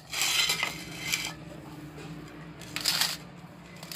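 A spoon clinks and scrapes against a bowl in a few short bursts while pani puri filling is mixed, with quieter stirring between the metallic strikes.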